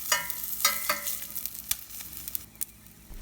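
Green chilies and hing fry in a hot pan, giving a steady sizzle broken by sharp scraping stirs that come close together early on, then a few scattered clicks, with no voices.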